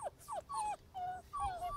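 Five-week-old Bernese Mountain Dog puppies whimper outdoors in a run of high, rising and falling whines, about five close, clear cries with brief gaps between them.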